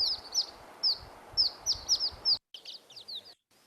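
Young chicks of a critically endangered bird give thin, high chirps in quick irregular bursts, close and fairly faint, with brief dropouts near the end and no voices.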